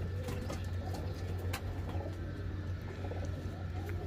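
Pigeons coo steadily and close by, a low throbbing murmur that runs throughout, with a few faint chirps and light clicks on top.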